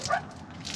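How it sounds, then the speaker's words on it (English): A small dog inside a parked motorhome gives a short, sharp yip or bark during an RV wash in Tok, Alaska. It sounds muffled and brief against steady outdoor background noise. "dog inside doesn't like you scrubbing"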